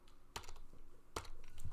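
Two distinct clicks of computer keyboard keys being pressed, sharp and close, spaced about a second apart over a low steady background hum.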